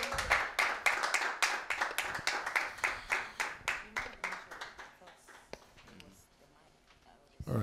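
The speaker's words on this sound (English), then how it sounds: "A round of applause for Zendaya." Studio audience applauds a contestant on a competition show, a burst of rhythmic hand claps that is loud at first and gradually thins and fades to scattered claps, with voices mixed underneath.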